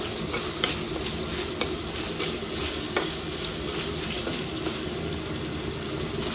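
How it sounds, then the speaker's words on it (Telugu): A pan of gongura chicken curry sizzles and bubbles steadily as it is stirred, with a soft scrape of the spoon recurring every second or so close by, and no talk. "ఈ విధంగా కలబెట్టేసి ఆ నీరంతా దాకా ఉడకనిచ్చుకోవాలండి"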